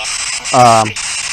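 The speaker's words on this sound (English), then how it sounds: "this white noise being broadcast" Continuous white-noise static hisses from a paranormal investigation device at a pioneer cemetery, steady and fairly loud, with a short tonal, voice-like burst cutting through it midway.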